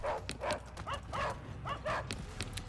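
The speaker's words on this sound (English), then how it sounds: "The Haggard dog sounds are so good." Dog barks and growls from the Haggard in the tabletop strategy video game Tabletop Tavern, a series of about six short gruff yelps at a steady pace, moderately loud over faint game background noise.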